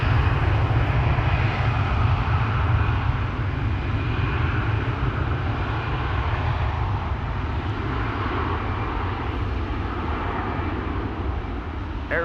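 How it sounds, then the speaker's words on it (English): An Air Arabia airliner taxis at Amsterdam Schiphol, its engines giving off a steady low rumble and drone that eases slightly over the stretch, with no voices. "Air Arabia on the move."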